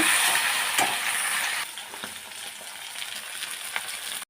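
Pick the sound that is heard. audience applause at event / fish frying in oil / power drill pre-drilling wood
fish frying in oil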